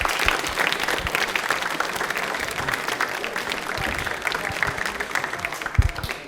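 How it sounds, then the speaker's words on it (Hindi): A studio audience claps for a contestant on a televised general-knowledge quiz, with thick, continuous applause and a few sharper individual claps standing out nearby. "प्रज्ञात के लिए एक बार तालियां हो जाए"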